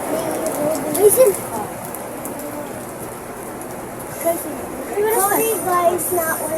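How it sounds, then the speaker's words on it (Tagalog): Light drizzle patters steadily on a surface outdoors, a soft continuous hiss beneath children's voices talking and calling out in bursts. "Naririnig nyo ba yung ambon? Napakalakas."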